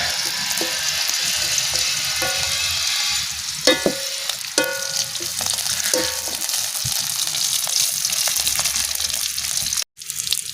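Garlic chives with chili, shallot and garlic stir-fried in a pan: a steady, close sizzle with scattered metallic clinks from stirring, and a sudden clatter near the end.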